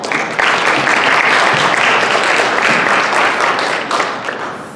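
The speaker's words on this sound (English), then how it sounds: "Can we have one more round of applause for all 4?" A lecture-hall audience applauds a panel of four speakers at a talk on Muslim mental health. The clapping is loud, dense and sustained for several seconds before it tapers slightly at the end.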